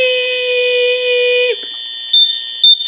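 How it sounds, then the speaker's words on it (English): Smoke alarm sounding during a test: a loud, steady, piercing electronic tone that cuts off, followed by two short beeps, close and alone. "No, because it's sounding an alarm."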